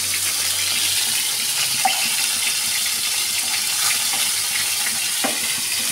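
Three fish fry in oil in a wok, producing a loud, steady sizzle and hiss with faint bubbling that carries on without a break and with no talk.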